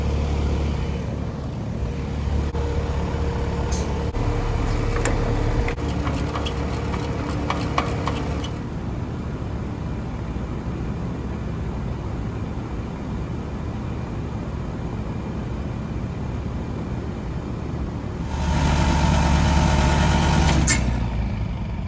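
An air conditioning system runs steadily during a TXV pump down, a loud continuous mechanical drone with faint clicks early on and a louder surge near the end.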